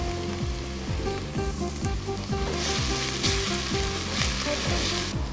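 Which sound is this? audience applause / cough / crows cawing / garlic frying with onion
garlic frying with onion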